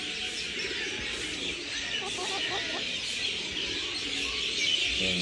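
Chickens at Al Noman Park Zoo in Barka, Oman, clucking and chirping in short bursts over a steady outdoor background hiss, with other birds faintly mixed in.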